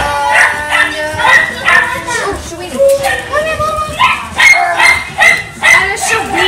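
Small puppies of mixed toy breeds, including a Maltese-Shorty mix and a Shih Tzu-Yorkie mix, at a puppy sale, yipping and barking in quick high bursts throughout, with children's voices mixed in.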